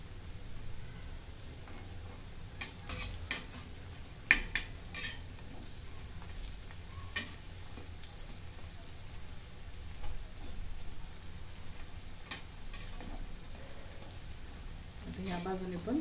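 Coriander vadi shallow-frying in oil over a medium flame, giving a soft continuous sizzle with a few sharp utensil clicks and scrapes. Faint talk sits under it.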